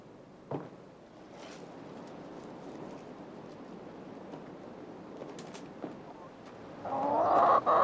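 Chickens cluck close by at the end, a short burst that grows loud after a quiet stretch with a few soft knocks and a faint rustle.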